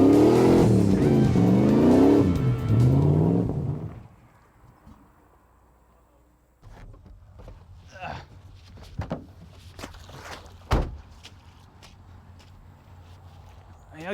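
An '88 K5 truck charging through a deep mud hole: a loud, surging engine rev for about four seconds that cuts off, followed by quieter idling, splashes, knocks and clunks.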